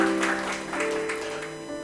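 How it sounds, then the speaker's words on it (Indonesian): A church congregation gives a sustained burst of applause for about two seconds, broad and fairly loud, with no voices rising above it. "Sekali lagi kita berikan tepuk tangan yang paling meriah buat Tuhan kita"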